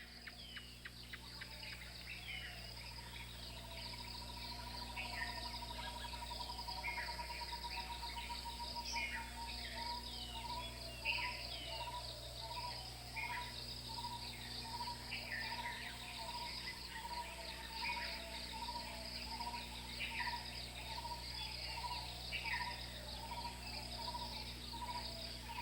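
Dense, continuous insect chorus of crickets and other insects in a forest monastery in Sri Lanka, a steady close shrill pulsing with faint bird chirps now and then across the whole stretch.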